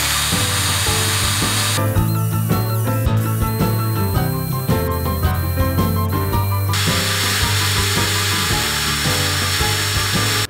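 A GRAND 16 V brushless cordless drill spins a 1 mm bit with a loud, continuous motor whine that steps in pitch partway through. A few sharp clicks sit over it, and no one speaks.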